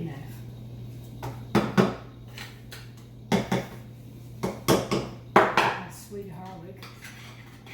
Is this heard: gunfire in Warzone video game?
no